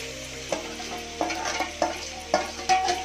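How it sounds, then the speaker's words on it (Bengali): Marinated chicken goes into a pan of frying onions and potatoes for chicken biryani, giving a continuous sizzle broken by several sharp scrapes and stirs of a utensil against the pan. "এবার বাকি পেঁয়াজগুলোর মধ্যে দিয়ে দিচ্ছি মাংসটা, ম্যারিনেট করা মাংসটা।"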